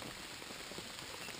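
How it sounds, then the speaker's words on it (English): Rain falls in a soft, even patter outdoors on a hike, quiet and continuous with no talking. "So, it's raining again."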